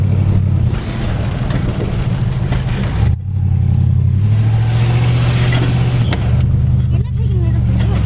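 A Buick fitted with a small-block Chevy V8 runs loudly and steadily, a deep rumbling drone that shifts pitch slightly as the engine revs up and settles.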